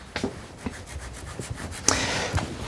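A cloth wipes excess oil off silver wire being drawn through a draw plate, a few close, short scuffing rubs followed by a longer brushing swipe.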